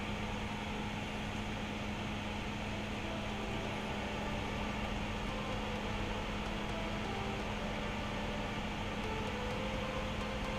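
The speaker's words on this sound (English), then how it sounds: "I guess at some point I'm going to turn on the suction" Suction pump on a PCB hot plate rig runs as a steady, dense broadband whir with a faint low hum, unchanging and fairly loud close by, with no talking.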